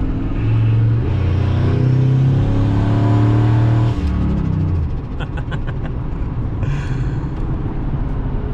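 A turbocharged Ford F-150 pickup with an engine of over 1,000 horsepower roars and climbs through gears accelerating onto a freeway, rumbling loudly up close, with a few faint clicks and rattles later.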